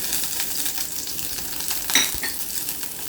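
Green chillies crackle in hot olive oil in a pan, a steady bright sizzle with light spatters and one clear metallic utensil tap midway.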